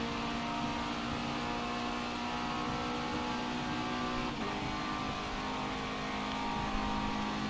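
A turbocharged four-cylinder car engine in the racing game Forza Motorsport 7 drones at steady high revs along a straightaway, a continuous loud hum with a brief dip in pitch midway, with no talking.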